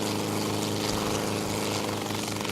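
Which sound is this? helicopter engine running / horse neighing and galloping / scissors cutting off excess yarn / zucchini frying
helicopter engine running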